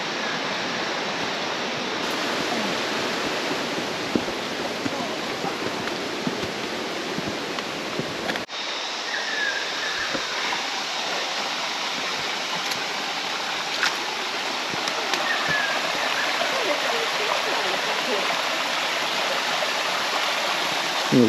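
Stream water flowing steadily along a rainforest walking track at Kondalilla Falls, a continuous broadband rush heard close by, with a brief dip partway through before the flow resumes, unbroken and without talk.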